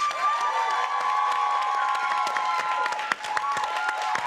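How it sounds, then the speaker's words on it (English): Studio audience of a televised talk show claps and cheers in a dense, steady burst, whoops and shouts riding over continuous applause for about four seconds. "If you think it's Marvin over here, clap your hands."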